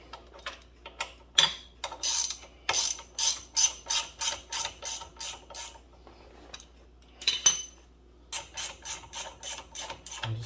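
Bolts being tightened on a Dyna front isolator mount with a ratchet wrench, bursts of rapid clicking ratchet strokes in quick rhythmic runs separated by short pauses, close and clear against a quiet background.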